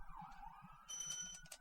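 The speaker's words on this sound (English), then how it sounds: "sorry about the siren outside, that's on my end." A wailing emergency siren sounds outside an open window, faint and distant, sweeping in pitch and then settling into a steadier high tone over a low rumble.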